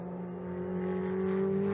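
Steady engine drone of Ferrari 488 Challenge race cars rolling along at moderate pace on a cool-down lap at the Nürburgring, a continuous low hum that swells slightly louder toward the end, no voices.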